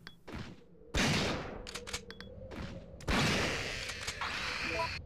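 Gunfire in the video game Resident Evil 3: Nemesis, two loud bursts of shots with trailing echoes, separated by quieter game sounds and brief clicks.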